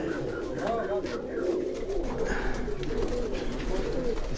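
Sialkot-breed pigeons cooing close by, several soft rolling coos repeating in overlapping bursts, with someone talking over them throughout.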